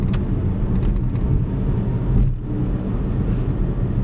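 A Baojun E100 electric car driving, with a steady rolling road and tyre rumble inside the cabin, fairly loud and even, briefly dipping midway.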